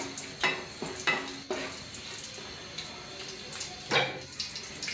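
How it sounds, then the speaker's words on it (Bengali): Whole spices, cloves, torn bay leaves, cardamom and cinnamon, fry in oil over medium flame for a Bengali bot bhuna, with a steady sizzle broken by a few sharp stirring scrapes and knocks. "দিব একটু গরম মশলা, 2-3টে লবঙ্গ, 2টো তেজপাতা ছিঁড়ে দিয়েছি, 3-4টে এলাচ আর 2টো দারুচিনি।"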